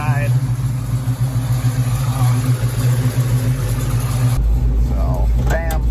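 A Pontiac Firebird's engine runs steadily at idle, its low rumble constant beneath a person talking, then changes tone and drops to a deeper throb in the last second or so.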